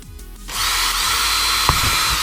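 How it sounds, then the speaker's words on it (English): A power drill bores a small pilot hole through a tennis ball, a steady close whine running after a brief start-up, with a small knock partway through. "I'm going to start with a smaller drill and drill the hole first."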